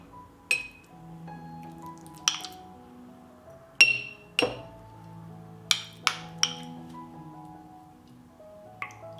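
Spoonfuls of sour cream go into sterile glass jars, with a series of sharp glass clinks spaced irregularly over soft kitchen background hum.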